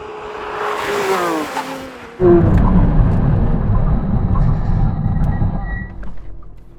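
A Porsche braking hard from 100 mph on a test track: a high tire squeal and rushing at first, then a sudden loud low rumble of the car sliding to a stop, heard up close.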